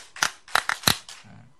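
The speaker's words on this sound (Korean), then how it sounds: "박수 5번 시작." A church congregation claps together five times on cue, crisp loud claps in an uneven rhythm echoing through the sanctuary, with a faint low murmur at the end.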